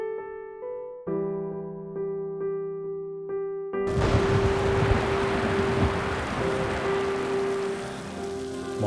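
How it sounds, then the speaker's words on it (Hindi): Steady rain pours down during a storm after a quiet musical passage, the broad hiss coming on suddenly and staying loud while a soft sustained music tone carries on beneath it. "बारिश अच्छी लगती है क्या?"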